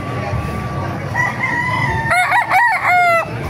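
Bantam chickens at a busy poultry market in Calumpit, with a rooster crowing in two or three loud, wavering calls over a background of crowd noise.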